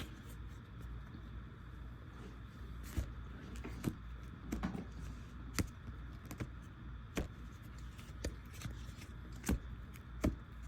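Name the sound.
shuffling tarot cards one-handed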